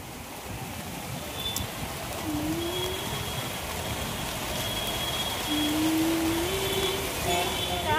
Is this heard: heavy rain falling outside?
yes